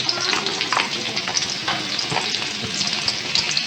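Onions frying in hot oil in a pan, a loud, dense, steady sizzle and crackle up close, with light stirring scrapes and no talk.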